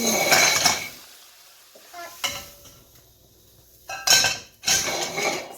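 Salted shrimp go into a pot on the stove with metallic clinks and scraping against cookware, bursts of clatter separated by short quiet gaps, with a light sizzle underneath and no talking.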